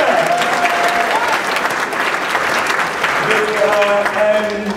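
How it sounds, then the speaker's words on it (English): An audience at a Sunday Assembly gathering claps for one of its members, a dense, lively round of applause that holds for several seconds with voices and some cheering mixed in. "You just got a round of applause"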